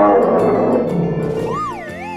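A growling bear roar from a children's animal sounds game, loud and rough for about a second and a half, followed by a wavering siren-like musical tone from the game.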